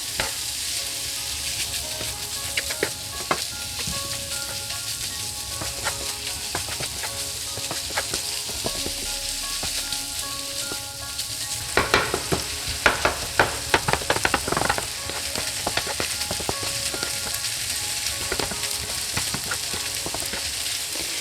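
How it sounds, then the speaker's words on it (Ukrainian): Minced meat being stirred and fried in a pan, a dense steady sizzle with scattered crackles and a busier burst of spatula scraping and clicks midway, close and continuous, with no voices. "І тепер фарш треба ретельно перемішати, щоб він був якомога менше дрібнішими шматочками."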